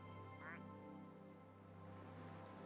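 Cartoonish duck quacking from a video game, a short burst of quacks near the start over a steady hum of game music, with a faint chirp later.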